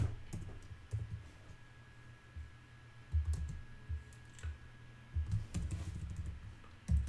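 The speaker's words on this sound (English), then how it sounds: "Let's type that one too." Irregular bursts of computer keyboard typing, soft clicks and clustered keystrokes with short pauses between them, sound close but fairly quiet over a low hum, with a faint steady tone running underneath.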